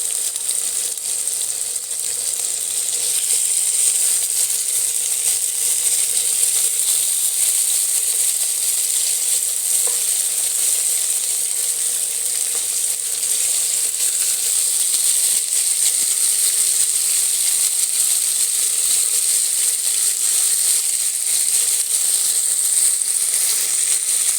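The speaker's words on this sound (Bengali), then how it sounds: "দেখুন এক পিট ভাজা হয়ে গেছে আমি আর এক পিঠ উল্টে দেবো" Fish pieces fry in hot oil for a fish curry, a loud, even sizzling hiss that runs unbroken from start to finish, close up and with no talk.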